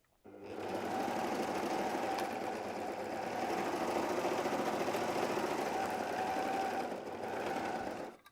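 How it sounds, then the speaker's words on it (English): Sewing machine stitching fabric around a curve on personalized Christmas pajamas, a steady close whirring motor hum running continuously for about eight seconds before stopping, no talking. "we're going to sew around this curve here. So we'll go back to our machine."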